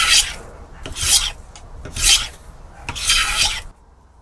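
Hand tool working a glued-up wood block smooth and square, four rough rasping strokes in a loose rhythm, close and loud, with a few light knocks between them.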